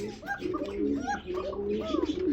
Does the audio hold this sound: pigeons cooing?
yes